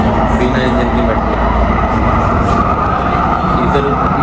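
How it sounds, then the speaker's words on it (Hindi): A driverless metro train in Copenhagen runs with a loud, continuous rumble and rolling rail noise, heard from on board as a steady roar. "बिना इंजन की मेट्रो"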